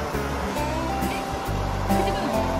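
The Naka River flows in a steady, continuous broadband rush close by, with a faint low rumble underneath and no distinct pauses.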